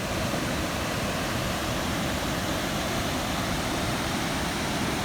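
Steady, loud rushing of Buck Creek in the North Carolina mountains, a dense unbroken roar of water over rocks heard close up with no voices.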